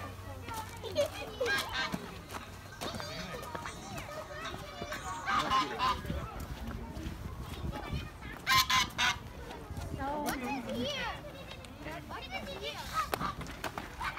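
Ducks and geese on a farm in Dubai where animals are being fed, with repeated loud honks and quacks scattered through the scene, some nearby and some farther off, while family members chatter throughout.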